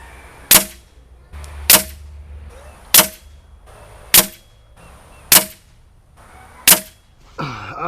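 A Beeman Chief Plus air rifle firing RWS pellets gives six crisp, snappy shots at a steady pace of about one every second and a quarter. Each shot is close and sharp with quiet gaps in between, and a brief rustle comes at the end.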